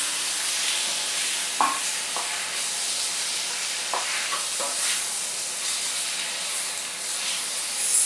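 Chopped tomatoes hitting hot oil with small pieces of ginger for a tomato chutney, a steady close hiss of frying with faint stirring clinks and pops over it.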